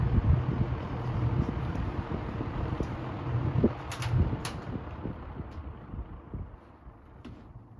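A TG&Y electric fan runs steadily, its spinning blades giving a continuous low whooshing hum with a faint airy hiss, close and even throughout.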